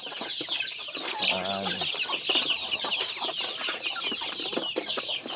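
Native chickens cluck steadily and close by as they wait for feed, with a dense, overlapping chorus of bird calls and one brief louder vocal burst early on.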